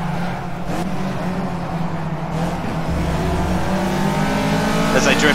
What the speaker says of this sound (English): As I drift that corner